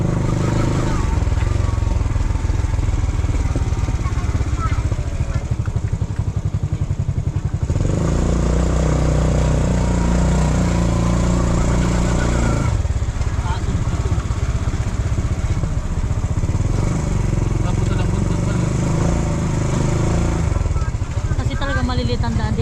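A motorcycle engine drones steadily while riding along a narrow road, loud and close, with speech over parts of the ride.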